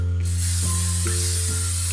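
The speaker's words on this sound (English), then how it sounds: "use cooking spray to" Cooking spray hisses out of a can onto a non-stick skillet, one loud continuous close spray running the whole time over a steady low hum.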